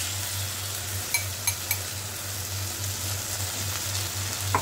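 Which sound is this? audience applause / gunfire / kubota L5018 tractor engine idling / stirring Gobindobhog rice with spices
stirring Gobindobhog rice with spices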